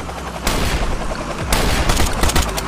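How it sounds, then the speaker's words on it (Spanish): A burst of loud shotgun fire in the mobile video game Rust, sharp repeated blasts, dense and continuous, followed by a second volley about a second later. "Vamos a ver si le puedo dar un escopetazo."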